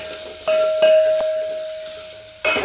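Onions fry in a turmeric tempering for buttermilk saaru with roasted green gram, giving a steady close sizzle broken by a few sharp stirring clinks against the pan. No voices.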